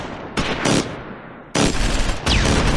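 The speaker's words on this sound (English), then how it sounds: "The M21 81mm mortar motor carriage opens a fire mission on a German machine gun position." Mortar fire from an M21 81mm mortar motor carriage and small-arms gunfire on a German machine gun position in the Close Combat 4 video game, with dense overlapping bursts and blasts in loud close waves.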